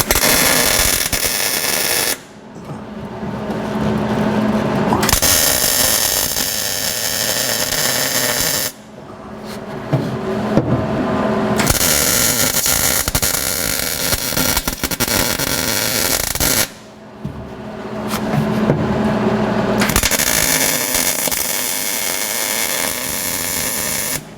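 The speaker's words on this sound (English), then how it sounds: "Let's see if we can weld this nut to the firewall." Welding a nut onto the firewall of a 1949 Chevrolet gasser, loud close crackling and sputtering bursts of arc welding, several separate runs each lasting a few seconds and split by short quiet pauses.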